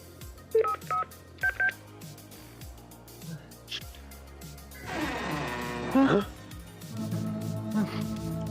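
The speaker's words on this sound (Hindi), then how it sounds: "तू रीटा को जल्दी से फोन कर, वरना सब गड़बड़ हो जाएगी।" A telephone number is keyed in, several crisp dial-tone beeps in quick succession near the start, followed by rustling and shuffling noises.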